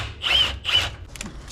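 A power tool works a brake caliper bolt on a barn-find C30. Two short, close whirring bursts come in quick succession, followed by faint mechanical ticking.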